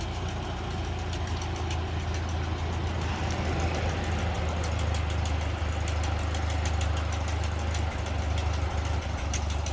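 A Ford 2N tractor engine runs at a steady idle close by, a loud continuous low rumble with rapid rhythmic knocking throughout, no voices.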